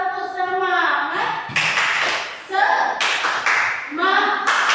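A classroom group doing a rhythmic 'tepuk semangat' clap chant, sharp bursts of hand claps in quick patterns alternating with chanted voices, close and loud.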